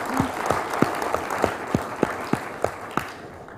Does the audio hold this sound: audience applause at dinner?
yes